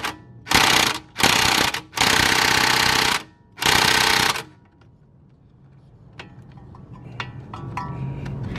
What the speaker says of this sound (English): You can do it with a socket with leverage, or you can just use a impact gun.